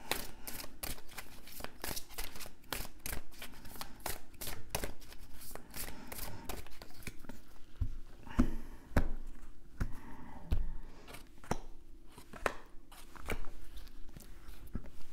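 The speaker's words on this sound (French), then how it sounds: "Je vais prendre 3 cartes." Oracle cards shuffled and drawn from a deck, with a rapid run of crisp card flicks and riffles up close, then slower sliding and tapping as three cards are pulled out.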